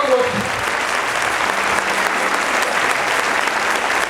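Loud, dense applause from a crowd at a Catholic Christ the King retreat, continuous and close throughout, with a brief voice at the very start.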